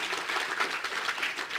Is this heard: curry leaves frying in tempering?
no